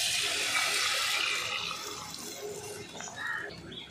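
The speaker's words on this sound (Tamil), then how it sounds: "தேவையான அளவுக்கு தண்ணி சேர்த்துக்கலாம்." Water pours into a pan of village-style viral fish curry, a close, steady splashing stream that tapers off toward the end.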